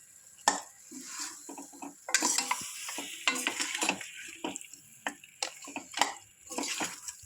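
Ingredients for paya shorva, a trotter soup, are stirred and sizzle in a pot, with intermittent scraping strokes and bursts of frying over a quiet background.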